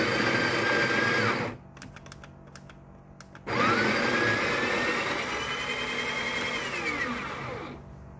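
A Breville espresso machine's built-in grinder whirs loudly as it grinds coffee beans at setting 3, running for about a second and a half, pausing during a few faint clicks, then grinding again for roughly four seconds before winding down.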